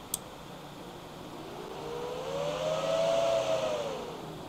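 A notebook cooling pad fan, powered by a 12-volt 2-amp adapter, whirs with a steady airy hiss. A brief click is followed by a whine that climbs and then falls again as the fan speed is varied.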